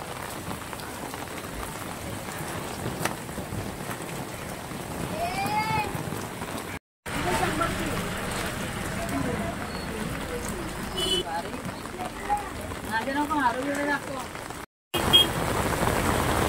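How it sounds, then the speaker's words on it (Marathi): Heavy rain pours steadily at a fish market, a dense continuous hiss of drops on surfaces filling the scene, with people talking through it and two brief dropouts. "पावसाचा जोर आता खूप वाढलेला आहे"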